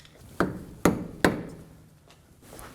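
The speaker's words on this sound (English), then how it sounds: "flathead screwdriver and a hammer, we're gonna go ahead and lock the nut to the axle" A hammer strikes a flathead screwdriver to stake the axle nut on a 2016-2020 Kia Sorento front hub, giving three sharp metallic blows in quick succession followed by a faint fourth tap.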